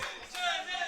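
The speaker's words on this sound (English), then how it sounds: "The crowd, Genesis." A crowd roars and cheers at a Genesis gaming tournament, a short, bright swell of many voices heard from across the venue.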